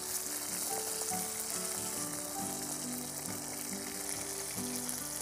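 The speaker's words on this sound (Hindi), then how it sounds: "मछली तो एक साइड फ्राई हो गया है, अब इसको पलट देते हैं, दोनों साइड अच्छे से फ्राई करेंगे।" Fish sizzles and fries steadily in hot oil in an iron wok (kadhai), a continuous close crackle with occasional bursts, no voices.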